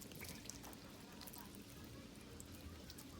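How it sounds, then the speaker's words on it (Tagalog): Water poured into a bowl of batter of flour and two eggs for Ilocano banana blossom fritters, a soft steady trickle and splash running throughout, faint and close. "Lagyan din po natin ng tubig."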